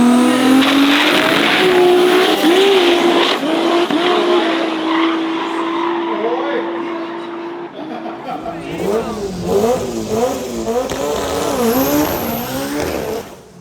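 A Mitsubishi Evo drag car with a sequential paddle-shift gearbox roars and revs at close range at a drag racing event in rural Thailand, pitch rising and falling through quick gear changes, a loud continuous racing sound with voices mixed in.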